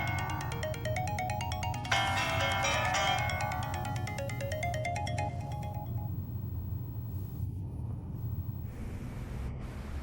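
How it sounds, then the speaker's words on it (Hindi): A phone ringtone plays during a call in a Hindi-dubbed Chinese drama, a repeating electronic melody that sounds for about six seconds over a low rumble and then stops, leaving quieter background noise. "अरे शेंगजे, फोन लगाते रहो, बंद मत करो ना"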